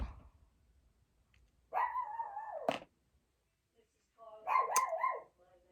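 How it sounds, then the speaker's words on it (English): A dog barks indoors in two separate outbursts, each a rapid cluster of sharp, fairly loud barks, with quiet gaps between them. "sorry about my dog barking"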